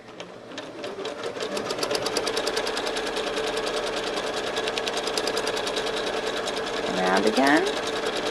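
A sewing machine stitches a quilt in a fast, steady needle rattle that runs almost the whole time, with someone speaking briefly over it.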